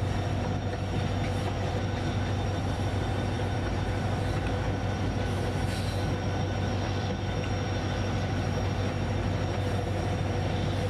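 Rajdhani Express hauled by a GOC WDP4D diesel locomotive in Indian Train Simulator, rolling along with a steady, loud rumble of wheels on rail and faint metallic squeals, continuous throughout with no talking.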